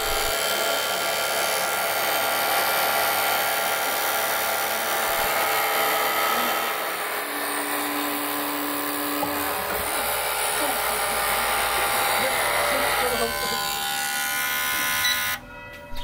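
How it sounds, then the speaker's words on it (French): Injector tester machine firing Maserati fuel injectors in test sequences, a loud, continuous buzzing, spraying hiss with small shifts in pitch that runs almost the whole time before stopping abruptly near the end; faint speech can be heard. "Elle permet de commander les injecteurs pour des séquences d'essai."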